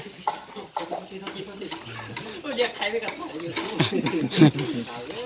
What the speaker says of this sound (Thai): เรามาเสียบสายไม้ไว้เรียบร้อยนะครับ เราก็มาย่างกันเลยนะครับ